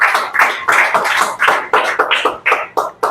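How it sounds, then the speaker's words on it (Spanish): Rhythmic group clapping at a church worship service, loud, close and evenly paced at roughly three beats per second. "Dale un aplauso al Señor"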